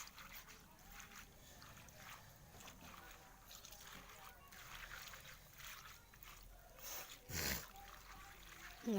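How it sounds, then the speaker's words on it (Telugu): Water poured over fish being washed sloshes and trickles quietly at close range, with a brief louder splash near the end. "నీళ్ళు పోస్తాం. ఆడిపో బాగా క్లీన్ చేసుకోవాలి"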